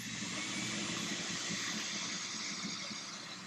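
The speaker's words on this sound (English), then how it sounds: "I'm gonna turn on the dry vac and let's see if it works." A wet/dry shop vac runs steadily with a loud, constant broadband whoosh and motor whine, heard close up and alone throughout.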